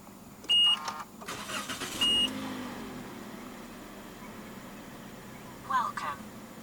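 A 2025 Toyota Yaris 1.5 G starts by push button: electronic chimes, then a brief starter whirr as the engine catches and settles into a quiet idle, with a person speaking nearby.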